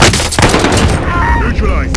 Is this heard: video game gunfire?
yes